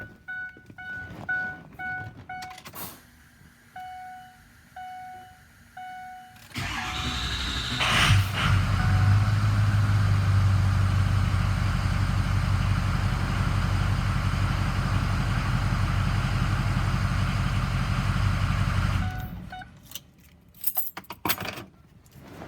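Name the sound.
Ford Excursion 6.0 truck engine cranking with 6.7 starter and idling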